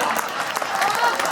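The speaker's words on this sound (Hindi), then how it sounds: "भाई तालियां कम बजाई आपने यार" An audience applauds with steady, dense clapping that fills the short moment at a loud level.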